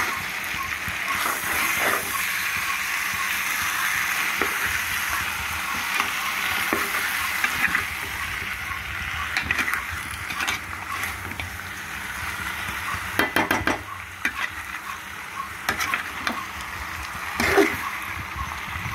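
Fish and raw mango pieces fry in a pan with salt and chili, a steady low sizzle with a metal spoon scraping and stirring in bursts, and some louder scrapes clattering against the pan.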